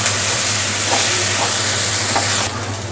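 Onion paste sizzling in hot oil in a home kitchen pan, a steady close broadband hiss that runs throughout and then drops slightly in level near the end, with a low hum beneath.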